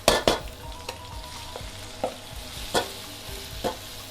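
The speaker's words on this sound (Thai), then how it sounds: "สไตล์เราคั่วกระเทียมให้หอมนะคะ" Garlic stir-fried in oil until fragrant: a soft, steady sizzle broken by several distinct spatula clinks and scrapes against the pan, heard up close with no voices.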